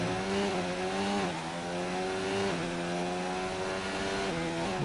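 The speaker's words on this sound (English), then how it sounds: "Really revving the engine high before shifting." An F1 car engine in F1 2019 at the Singapore race, revving high through several gears, its whining pitch climbing and dropping abruptly at each shift, steady and fairly loud, heard alone.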